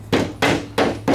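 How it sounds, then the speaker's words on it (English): A rubber mallet taps coffee table shelf pegs down into their holes, giving four sharp, close knocks in quick succession with no voices. "You can take a rubber mallet, hammer, whatever you want to do,"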